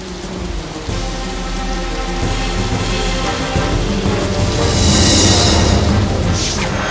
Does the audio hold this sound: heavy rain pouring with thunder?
yes